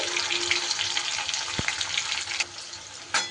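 Paneer pieces frying in hot rice bran oil, a steady close sizzle with a few sharp clinks of a utensil against the pan.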